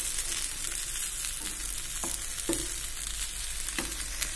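Onions fry in a pan with a steady, fairly quiet sizzle, broken by a few sharp clicks from a spatula against the pan and no talking.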